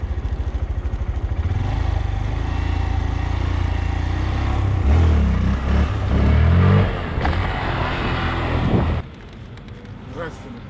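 A Honda Grom motorcycle engine idles and revs under throttle during a first wheelie attempt, a close, loud, buzzing drone that swells and then drops off sharply near the end, with a voice talking over it.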